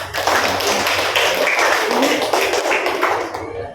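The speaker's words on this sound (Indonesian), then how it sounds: "Kasih tepuk tangan dulu." Classroom applause from schoolchildren after a lesson on volcanoes: dense, steady clapping from many hands fills the whole clip at close range and stops abruptly at the end.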